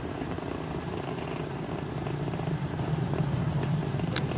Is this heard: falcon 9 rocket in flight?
yes